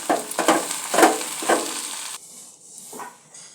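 Okra fry with peanut powder stirred in a hot pan: a few rhythmic scraping strokes over a sizzling bed, then quieter frying with one last scrape near the end, no talking.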